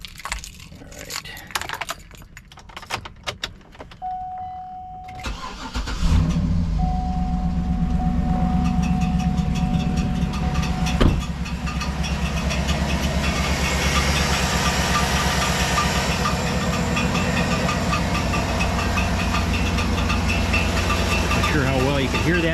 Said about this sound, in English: let me just go ahead and just start the car so you can hear what it sounds